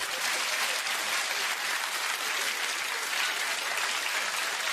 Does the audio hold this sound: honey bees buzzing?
no